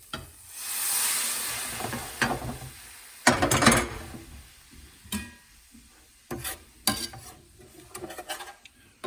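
Ginger, onion, garlic and sauce stirred together in a hot pan with elk meat, giving scraping, sizzling bursts of moderate loudness in uneven strokes, no talking.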